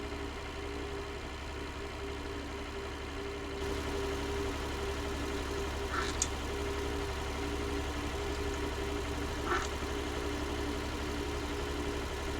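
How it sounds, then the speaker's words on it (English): Vintage Nuffield and Fordson tractor engine running at top speed downhill on a tree-lined road while hay carting, a steady loud low drone with faint knocking, no talk. "At least now we are getting top speed out of the tractor, down a bit of an hill here."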